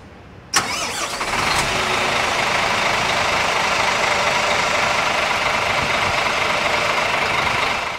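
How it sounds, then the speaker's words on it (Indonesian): A Scania K360iB bus engine, heard from outside the vehicle: a sharp start burst, then a loud, steady, full-bodied idle that holds evenly for several seconds. "kalau kita dengerin dari luar, itu suara mesinnya enak banget."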